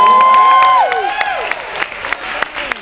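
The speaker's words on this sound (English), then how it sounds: "You gotta give a big clap to him." An audience at a fan event claps and cheers for an award presenter. A whistle-like tone opens, then scattered sharp claps ring out over a crowd murmur.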